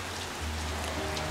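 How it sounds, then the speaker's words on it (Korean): Steady rain patters down on outdoor surfaces in a continuous, close hiss with soft drop impacts and a low rumble underneath, with no voices. "비가 내리시네."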